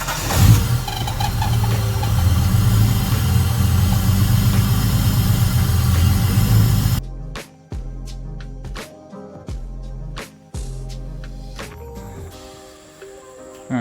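A Holden VX Commodore engine runs roughly and struggles to hold an idle, a loud steady rumble for about seven seconds before it drops to an uneven, pulsing run with sharp clicks and knocks.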